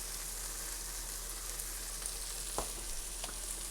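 Shakshuka spices (paprika and salt) toasting and being stirred in a pan, giving a steady soft sizzle with a brief scrape of the spoon.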